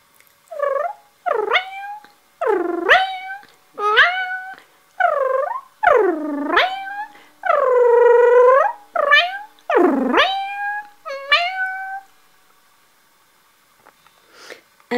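A person's voice imitates a mother cat talking to her kittens: about a dozen close, distinct meow-like chirps and trills with rising and falling pitch, in quick succession before trailing off.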